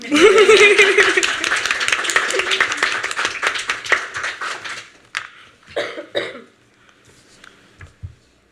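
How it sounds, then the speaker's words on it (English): An audience at an artists' talk claps loudly and steadily for several seconds, then the applause thins out into scattered claps and shuffling. "Please clap for Bria."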